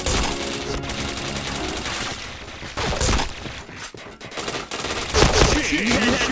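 Gunfire in a shooter video game, with rapid automatic bursts and overlapping shots, loud and dense throughout, brief gaps between volleys, and game effects mixed in.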